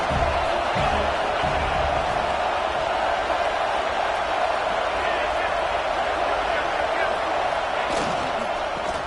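A loud, continuous roar from the stadium crowd at a USC college football game against Oregon fills the whole stretch, with a commentator speaking over the noise.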